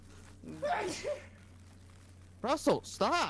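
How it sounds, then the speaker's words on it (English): A single sneeze, close and fairly loud, is followed a moment later by a person calling out. "Bless you again."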